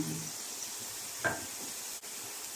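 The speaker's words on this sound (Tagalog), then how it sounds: "Fry muna tayo ng onion." Onions fry quietly in a pan for crispy fried onions for koshari, giving a soft, steady sizzle with a brief stir and a faint clink, no talking.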